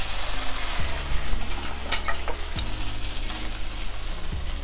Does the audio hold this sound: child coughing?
no